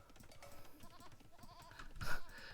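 Sheep bleating inside the real-time strategy game Age of Empires, several wavering bleats over soft clicking game sounds, with a brighter, louder burst near the end.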